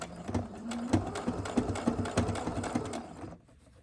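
A sewing machine stitching a fabric face mask, running in a quick rattling burst with a brief backstitch, steady close mechanical chatter that stops abruptly near the end.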